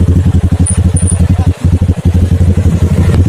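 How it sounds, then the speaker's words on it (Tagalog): A Rusi Sigma 250 motorcycle engine idling close by, a steady rapid low thumping pulse with a brief dip midway, loud and alone. "so ayun na nga umaandar ngayon motor natin"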